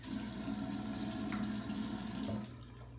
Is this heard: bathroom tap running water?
yes